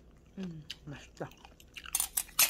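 Someone eating a freshly made wild water dropwort salad dressed with soy sauce, oil and sesame salt: a few close, moist chewing and crunching bites, with voiced sounds mixed in between them.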